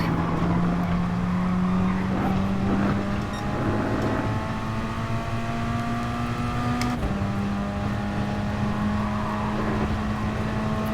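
Race cars in Gran Turismo Sport run in a close pack of four or five, a loud sustained engine drone with rising pitch, a brief gear-shift dip and faint tyre noise.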